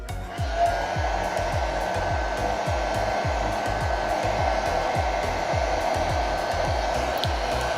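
A hair dryer blows hot air to warm and soften craft material so its edges stick down, a steady close whirring roar with a rapid rhythmic pulsing flutter underneath, running continuously and alone.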